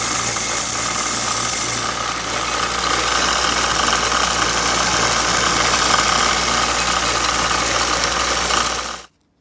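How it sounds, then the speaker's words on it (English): Belt grinder running loud and steady while grinding the sharp edge off a cut metal knob, a harsh continuous abrasive whine that stops abruptly at the end. "So what I'll do is I'll just take it to the belt grinder. I'll grind that sharp edge off."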